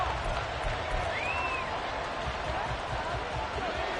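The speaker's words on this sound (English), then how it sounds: "the crowd getting into it as we come up on a big 3rd down" Football stadium crowd cheering ahead of a big third down, a dense, steady roar of many voices that holds at one level throughout.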